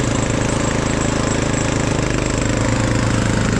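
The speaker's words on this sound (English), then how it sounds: "Oh look, it's Captain Lawnmower." Ride-on lawn mower engine running steadily and loud, a continuous mid-pitched drone with a fast knocking pulse, heard alone with no talk.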